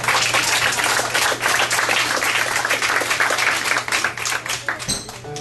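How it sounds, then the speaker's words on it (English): Writers at a guild reading applaud themselves, a full, continuous burst of clapping close by with a faint steady hum underneath, easing slightly near the end. "And give yourselves a round of applause"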